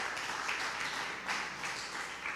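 A church congregation applauding after a sermon, a soft wash of many hands clapping, fairly distant and faint, steady across the moment with no speech.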